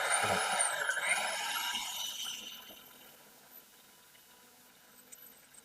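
A 4G mixer grinder fitted with a coconut scraper attachment runs with a high motor whine and a hissing grate that winds down after a couple of seconds, leaving a faint hum.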